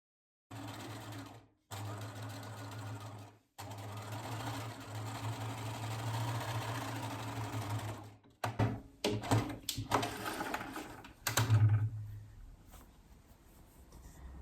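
A domestic sewing machine stitches a wavy line through fabric in an art studio, running in steady whirring bursts with short pauses between, then a few uneven stop-start runs toward the end.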